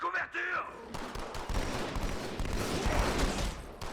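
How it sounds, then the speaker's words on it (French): Dense gunfire crackles through a Halo 2 firefight, with rapid overlapping bursts under a steady roar of battle, opening briefly under a voice. "Tir de couverture! Tir de couverture!"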